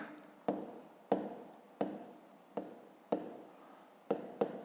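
A pen scratches out figures on paper during a fifth-grade fraction exercise: about seven quick, crisp strokes in an even rhythm, close and fairly quiet, with no voices.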